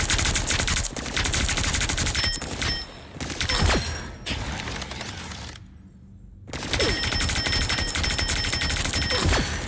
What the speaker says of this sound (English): Those guys are about to shoot at us.